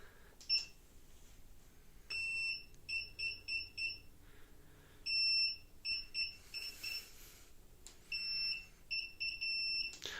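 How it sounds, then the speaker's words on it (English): High electronic beeps from a Xiaomi M365 electric scooter signal error 14: one beep, a pause, four beeps, repeating in groups, faint and tinny over a quiet background hum. "1 beep, pause, 4 beeps. That's how you know you have error 14."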